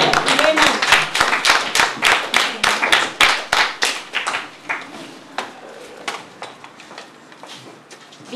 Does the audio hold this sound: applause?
yes